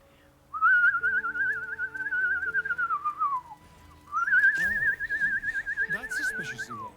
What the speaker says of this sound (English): Means I can do my weird whistling shit.